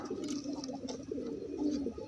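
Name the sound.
racing pigeon cooing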